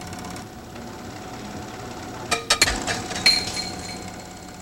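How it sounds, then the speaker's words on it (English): A penny and a feather drop inside an evacuated glass tube, landing in a short cluster of sharp clinks and knocks after a steady background hum. "When the penny and feather are released, we'll witness the law of falling bodies in action."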